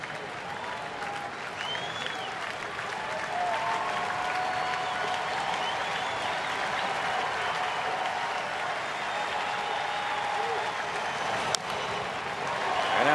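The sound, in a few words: baseball crowd cheering on its feet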